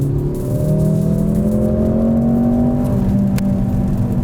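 A 2024 Mercedes AMG GLC 43 Coupe accelerates hard in Sport Plus mode, the engine droning loud and steady from inside the cabin as its pitch climbs smoothly, with a slight tonal shift near the end.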